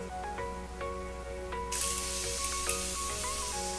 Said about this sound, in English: finish off with a spritz of my Morphe Prep and Set Setting Spray